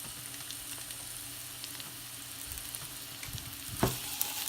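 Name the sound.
mushrooms frying in olive oil in a pan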